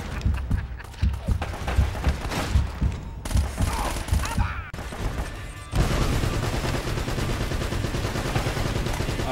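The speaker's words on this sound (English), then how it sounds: "Oh, I hear that. That sounds like a big gun." Big-gun gunfire rattles in the Uncharted: Drake's Fortune video game, with bursts of heavy shots and thuds, loud and dense, turning into sustained rapid fire in the second half with no clear speech.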